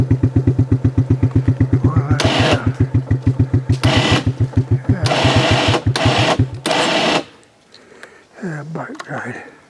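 A small dirt bike or ATV engine revs nearby in rapid, steady firing pulses, then surges in several loud bursts before cutting out, leaving quiet rustling and faint movement.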